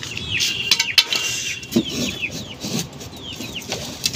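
Pet pigeons and chicks released from their coop cluck, chirp and flap their wings near the listener, with short bursts of fluttering over a steady outdoor rustle.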